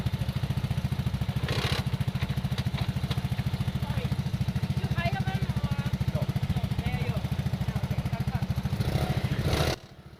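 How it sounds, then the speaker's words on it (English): A Lambretta scooter engine running after starting, a loud, close, rapid two-stroke putter that holds steady for about ten seconds before suddenly dropping off near the end. "He was too busy getting his Lambretta started"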